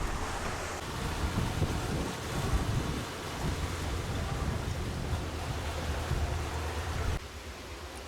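Wind buffeting a sailboat on a night passage at sea, a continuous broadband roar with gusty microphone rumble over the wash of waves, steady and fairly quiet, dropping to a softer level near the end, no talk.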